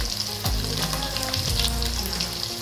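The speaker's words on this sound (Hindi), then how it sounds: "और इन मसालों को हम थोड़ा सा भून लेंगे।" Spices with turmeric sizzle and fry in a hot pan, a loud, dense crackle with a couple of stirring scrapes, close up and without talk.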